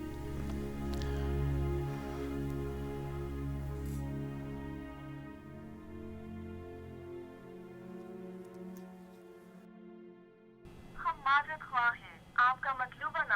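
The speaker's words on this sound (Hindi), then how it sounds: "फोन लगा उसको" A telephone call goes through: a long, steady ringback tone hums for about ten seconds, then gives way to a recorded operator voice announcing the number is unavailable.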